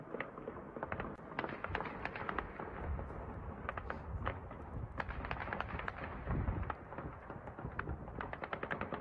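War recording of steady gunfire from the Russia–Ukraine fighting near Kyiv, with dense, continuous rapid shots and bursts rattling along at moderate distance and no voices over them.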